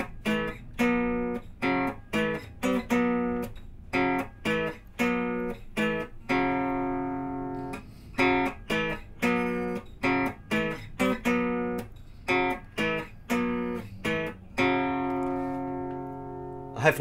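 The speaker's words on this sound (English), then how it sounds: "Now, if you've got a steel string guitar, it might sound something like this." A steel-string acoustic guitar plays a riff, short plucked notes and brief chord stabs in an uneven rhythm, clear and close, with a few sustained notes.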